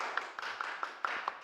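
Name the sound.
audience applause welcoming a speaker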